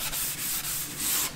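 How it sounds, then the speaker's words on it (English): Green Scotch-Brite scrubs the oiled metal faces of an old Boxford lathe in a continuous close, hissing rub with slight rhythmic strokes. No one speaks. "We're going to attack those faces with a bit of green Scotch-Brite."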